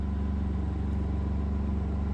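Farm equipment engine cranking, tilted at an angle on a concrete floor: a steady, loud, rhythmic low chugging that runs evenly throughout, close by, with no voices.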